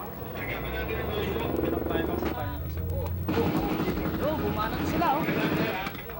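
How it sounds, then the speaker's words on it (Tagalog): A military helicopter thunders overhead during the siege of Camp Cawa-Cawa as a building burns, giving a loud continuous rotor roar and whine while someone talks over it throughout. "Ito na naman yung helicopter."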